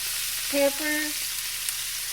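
Chopped peppers, onion and celery hitting a hot pot, giving a steady close sizzle and crackle of frying that holds even throughout, with no talk.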